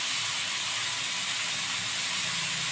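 A loud, steady sizzling hiss as water is poured slowly onto hot semolina in a pan over low heat for pineapple kesari, continuous and close without pauses.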